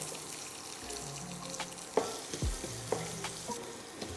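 Small onions, sliced shallots, sauté quietly in a pan for a Kerala mushroom theeyal, a soft sizzle broken by a few spoon knocks and scrapes against the pan.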